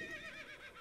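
Horse neighing in the Assassin's Creed video game, a short whinny heard alone with no speech over it.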